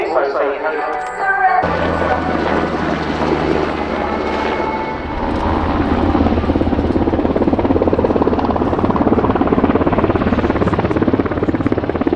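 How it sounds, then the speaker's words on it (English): A Swedish Air Force helicopter from the second helicopter division flies at an air show display, giving a loud, sustained rotor and engine roar. It builds after a brief quieter opening, over open-air ambience. "the first visit of these helicopters from the Swedish Air Force"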